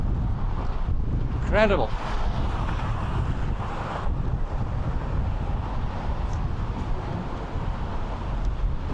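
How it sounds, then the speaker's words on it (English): Strong wind buffets the microphone on the Golden Gate Bridge in San Francisco, a loud continuous rumbling roar with gusty surges, while a person briefly speaks over it. "it being so windy when I've walked the bridge on this point"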